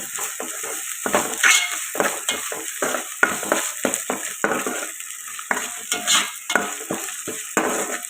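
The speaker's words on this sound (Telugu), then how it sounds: "ఇప్పుడు అల్లం వెల్లుల్లి పేస్ట్ కూడా పచ్చివాసన పోయేదాకా ఫ్రై చేసుకోవాలి." Ginger garlic paste and onions frying in a pan as a spatula stirs them in repeated scraping strokes over a constant bright sizzle, close and fairly loud with no voices.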